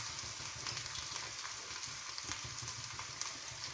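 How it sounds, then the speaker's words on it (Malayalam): Shallots, garlic and curry leaves fry in oil for a jackfruit seed, prawn and drumstick curry, giving a continuous close sizzle with faint crackles and light stirring. No one talks. "നമ്മുടെ ഉള്ളിയും കറിവേപ്പിലയും മൂത്ത് വന്നിട്ടുണ്ട്."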